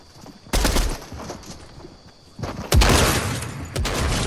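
Bursts of gunshots in the Fortnite video game, three loud sharp volleys spaced a second or two apart, close and dense, with no talk over them.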